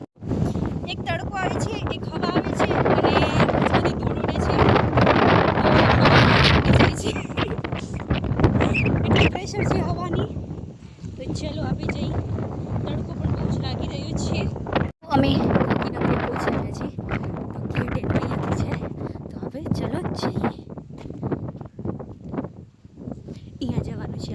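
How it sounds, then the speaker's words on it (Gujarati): Strong wind gusting across a road, a loud, continuous roar of buffeting wind noise that rises and falls over the whole stretch, with a brief break partway through and voices talking underneath. "રસ્તામાં એટલી હવા આવી છે કે અમે ઉડી જઈએ છીએ"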